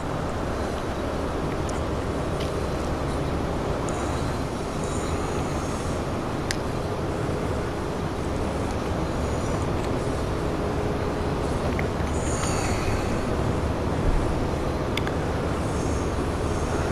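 A train departing Reading in the Train Sim World video game, in rain: a steady, loud rumble of wheels and engine throughout, with faint higher squeals and clicks over it, and no talk.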